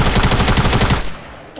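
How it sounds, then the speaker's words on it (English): A tactical submachine gun fires in a video game: a loud, rapid burst of automatic fire lasts about a second, then cuts off and leaves a fading tail. "Got a tactical submachine gun."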